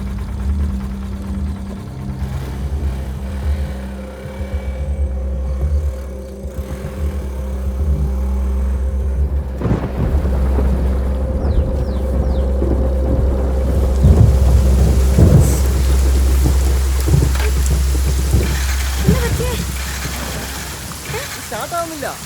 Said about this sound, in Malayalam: മഴ വരുന്നുണ്ട്.